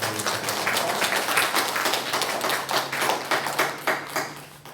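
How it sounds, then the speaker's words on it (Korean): A church congregation at a Korean Sunday worship service applauds after a choir's hymn, sustained rhythmic clapping from many hands filling the room for several seconds. "우리 모두 박수로 영광의 박수를 드리겠습니다"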